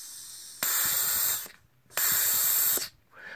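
Air blown by mouth through a plasma torch's faulty air solenoid valve, opened with a magnet, rushes out in two sustained, loud hissing bursts separated by a short pause, close up.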